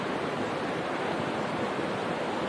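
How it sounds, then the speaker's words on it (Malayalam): Large waterfall in Kerala, heard as a dense, steady roar of rushing water, even and unbroken across the whole short stretch, no voices. "അതാണ് ആ വെള്ളച്ചാട്ടം, ഏറ്റവും ടോപ്പിലാണ് ആ കാണുന്നത്"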